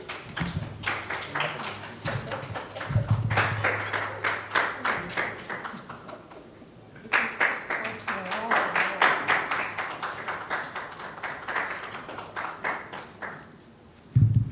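An audience at a partnership launch event claps steadily and rhythmically through a handshake photo, with a short lull midway before the applause picks up again at moderate volume.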